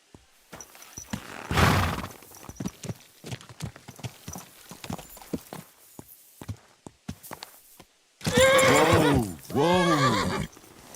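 Horse in Kingdom Come Deliverance 2 clopping along with steady hoofbeats under scattered voices, then two loud, close neighs near the end.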